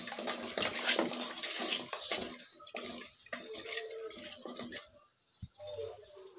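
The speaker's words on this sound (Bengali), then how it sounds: "এখন আমি কই মাছগুলো সুন্দর করে ধুয়ে এর মধ্যে লবণ হলুদ মাখিয়ে নিচ্ছি।" Koi fish being washed in water before cooking: steady splashing and running-water rinsing, fairly close and continuous, easing off near the end with a few small drips and clinks.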